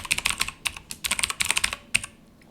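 Rapid, uneven keystrokes on a computer keyboard while a command is typed into a terminal, clicking close and crisp in quick bursts with short pauses, no voices.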